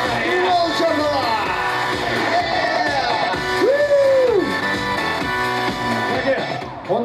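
Concert audience at a VIP Records Shymkent show cheering and whooping, a dense, continuous crowd roar with shouts rising over it, busy and loud throughout.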